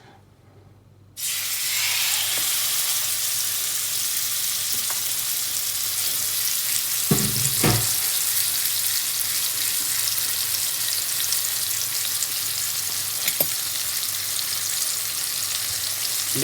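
Marinated chicken hits a hot pan over a low flame and starts a loud, steady sizzle that holds throughout, with a couple of brief stirring scrapes partway through and no talking.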